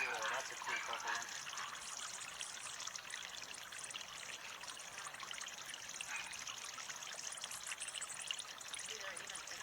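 Water trickles and pours steadily at sunset in Palm Springs, a soft continuous babble with splashy detail, faint and close, while people talk quietly now and then.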